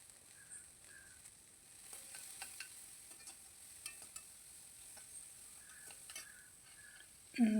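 Sliced large onions sauté in a pan with curry leaves and salt, a soft low sizzle broken by light spoon scrapes and taps at irregular intervals, with a sharper clatter right at the end.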